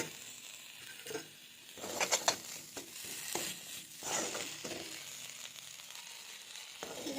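Egg bhurji with tomato and peas sizzles softly in a pan as it is stirred, with scraping spatula strokes and light crackling at a quiet level and no voices.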